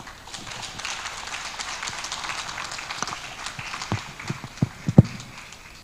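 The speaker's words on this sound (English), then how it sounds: "Please make her feel special and welcome with a resounding round of applause, Advita Patel." Audience applause welcoming speaker Advita Patel at a PR annual conference, a steady dense round of clapping across the hall with a few louder claps standing out near the end.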